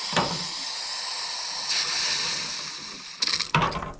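Air hissing out of plumbing lines being purged during pressure testing, a long steady hiss followed by sharper sputtering bursts near the end as water arrives.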